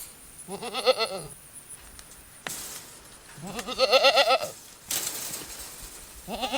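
Horned goats on a farm bleat in several wavering, drawn-out calls close by, with rattling and clanking noises between them.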